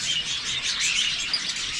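Small caged birds chirp and tweet steadily near their cage on a farm, a dense continuous twittering of several birds close by with no talking.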